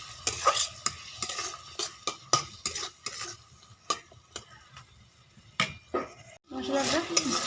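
Spice paste of tomato, turmeric, cumin and green chilli sautéing in a kadai for labra, with rapid spoon scrapes and clinks over a soft sizzle, a brief pause, then louder frying near the end.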